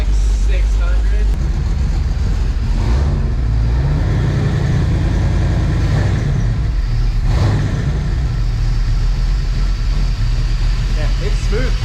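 A 5.9L Magnum V8 fitted with a Comp Cams camshaft idles with a loping, choppy rumble just over 700 RPM, steady and close, while people talk over the engine throughout.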